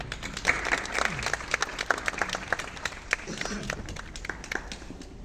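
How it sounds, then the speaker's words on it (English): An audience at a ballet company press conference applauds in a brisk round of clapping that is moderately loud and close, fading slightly toward the end. "Let's all give a warm round of applause to Dr. Maybella Vito."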